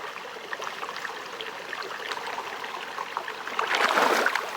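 Clear spring water trickles out of the ground at a remote Kimberley spot, a continuous gentle babbling close by, swelling slightly louder near the end.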